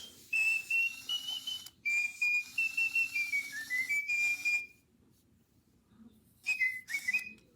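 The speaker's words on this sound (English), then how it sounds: "But that's the sound of his motors trying to work." A robot bird toy emits high, steady whistle-like buzzing tones from its motor, coming in several sustained bursts that slide up and down in pitch, with a quiet gap partway through and no talking.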